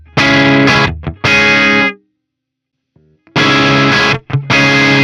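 An electric guitar plays through a BT MT15 distortion pedal set for heavy saturation, with loud, thick chords struck in two bursts and a short quiet gap between them.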